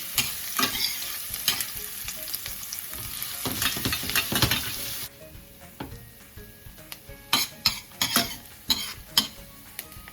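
Onion fries in a pot on medium heat for brown stew chicken, a bright sizzle that drops quieter midway, punctuated by frequent scraping stirs and utensil knocks.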